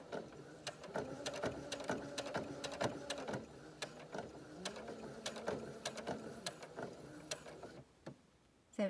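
A sewing machine runs a seam on a knit headband, its rapid mechanical needle clatter steady and close for most of the stretch before stopping near the end, with no talking.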